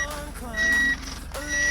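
A camper van warning buzzer goes off when the engine is started with the charging cable still plugged in, giving repeated high electronic beeps over a low idling engine hum.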